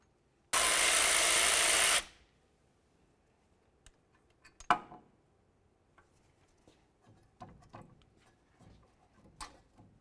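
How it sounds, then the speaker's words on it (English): Removing the bolt that holds the flex hose to the strut on a 2002-2006 Honda CR-V with a 12mm wrench: a loud burst of tool whir lasting over a second, then scattered close metallic clinks and taps. "Let's use a 12mm to remove the bolt that holds the flex hose to the strut."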